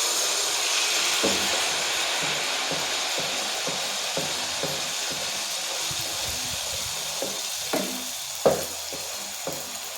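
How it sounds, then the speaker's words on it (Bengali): Rice flour fritters sizzle in hot oil with a steady, dense hiss throughout, broken by occasional soft clinks and taps of a utensil against the pan. "ভালো করে ভেজে নিচ্ছি। আর ওই ধারে আমার তেল গরম হয়ে গেছে"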